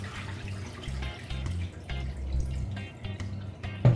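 Tap water runs and splashes as raw chicken is washed for Jamaican curry chicken, a steady close trickle with drips and handling sounds in a sink.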